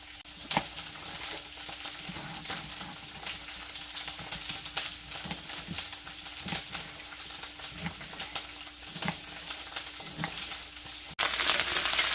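Potatoes and peppers fry in a hot skillet for a Mexican breakfast hash, a steady close sizzle with occasional stirring scrapes and clicks, without speech.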